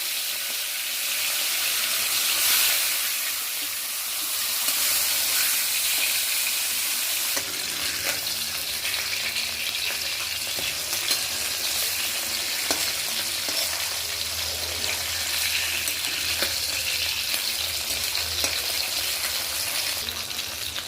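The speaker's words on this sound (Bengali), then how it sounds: "প্রথমেই আমি তেল গরম করে নিয়ে সামান্য নুন ছড়িয়ে নিয়েছি। এবার আমি মাছগুলো ছেড়ে দেব।" Fish frying in hot, lightly salted oil in a pan, a loud steady sizzle that runs throughout, growing denser and crackling partway through.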